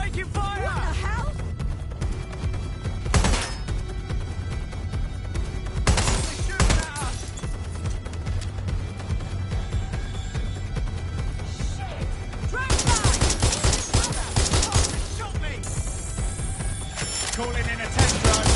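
Loud, dense gunfire in the video game Watch Dogs Legion, with sustained bursts, crashes and mechanical clatter overlapping throughout, and a voice talking over the din.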